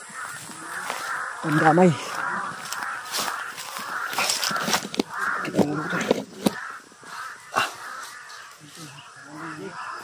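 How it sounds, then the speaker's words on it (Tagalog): Startled crows cawing in a harsh, overlapping chorus around a group of people, with the calls bursting out repeatedly and fairly close while voices talk over them. "Nabilabog na yung mga uwak."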